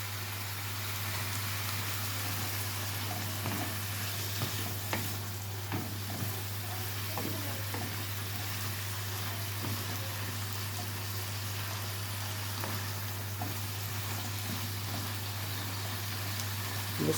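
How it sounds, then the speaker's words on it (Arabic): Lemon juice squeezed over herring cooking in a hot pan sets off a steady, close frying sizzle with faint crackles that runs evenly throughout, with no talking. "تسمعوا صوت الطشه بتاعت الليمون كده."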